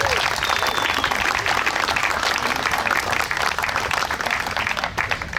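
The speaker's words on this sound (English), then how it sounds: "Let's give them a great big round of applause." Wedding guests at an outdoor ceremony on Balmoral Beach applaud the bridal party, a loud, sustained wash of many hands clapping, with some voices mixed in and a slight dip near the end.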